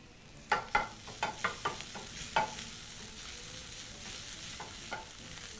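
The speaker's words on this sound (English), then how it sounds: "Mix that together in the pan, and be sure to always return your mixture to the center of the pan where it's hottest." Garlic and a teaspoon of minced ginger stirred in a hot pan while cooking Kenyan liver stew, a series of scraping stir strokes over a steady low frying sizzle, the strokes bunched early and then thinning out.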